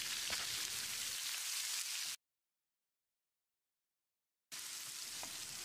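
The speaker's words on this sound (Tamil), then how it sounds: "1 நிமிஷம் இதை வதக்கிடலாம்." Tomatoes and cashews sauté steadily in a hot pan for cauliflower gravy, a continuous crackling hiss broken by a stretch of complete silence midway.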